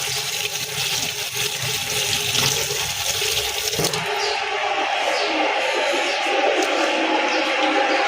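Tap water pours steadily into a sink as fresh oregano is rinsed, a close, continuous rushing splash that shifts slightly in tone partway through.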